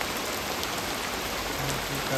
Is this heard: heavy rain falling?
yes